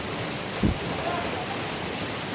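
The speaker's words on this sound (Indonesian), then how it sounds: "Melihat derasnya air mengalir yang jatuh bisa membuat hati tenang dan senang." Waterfall at Curug Goa Lumut in Bogor, a steady, dense roar of falling water with rocks nearby, heard close with a brief low thump early on.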